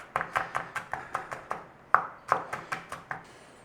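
Garlic being chopped with a knife on a board, a steady run of about a dozen crisp, evenly spaced taps close by, no talking.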